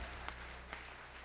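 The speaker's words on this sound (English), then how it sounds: "yes, give yourself an applause." Faint, distant applause from an audience at a corporate check presentation, a steady soft wash of clapping over a low hum, with a couple of slightly sharper claps standing out.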